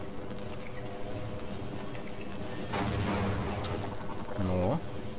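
A satchel charge explosion in Half-Life booms mid-clip, a broad burst over steady ambient noise, followed by a brief rising tonal sound.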